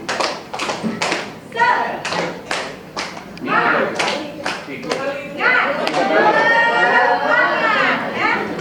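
A group doing tepuk semangat, a rhythmic patterned clap chant, with sharp, evenly spaced claps at first, then voices chanting and talking over continued clapping.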